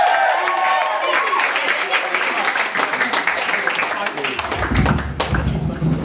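An audience at a stand-up comedy charity variety show greets a comedian with applause and cheering, a dense loud wash of clapping with whoops, alongside an announcer's voice.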